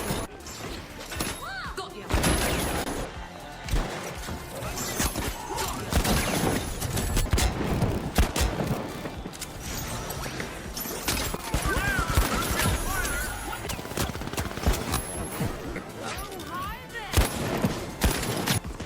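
Heavy revolver gunfire and grappling-claw clanks from a BFR Titan revolver and winch claw in the shooter game The Finals, loud and dense, with repeated booming shots, crashes and thuds over busy battle noise.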